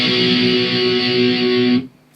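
Distorted electric guitar strumming a sustained chord from a song, a loud, fuzzy held chord that rings steadily and then cuts off abruptly.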